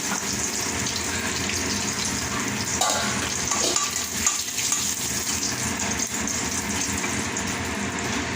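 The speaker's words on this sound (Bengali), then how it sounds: "এবার আমি এর মধ্যে ফোড়নে দেব তেজপাতা, 2টো এলাচ, 2টো শুকনো লঙ্কা, সামান্য একটু গোটা জিরে দিয়ে ফোড়নটাকে একটু নাড়াচাড়া করে নেব।" Bay leaf, two cardamoms, two dried chillies and a little whole cumin frying in hot oil for a paneer and potato curry give a steady, close sizzle with light stirring scrapes and no voices.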